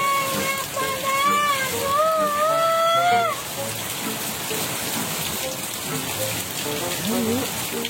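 Steady rain falls throughout, a dense even hiss of drops on a surface heard close and fairly loud, while a high melodic tone sweeps over the first three seconds and a few voices talk faintly beneath.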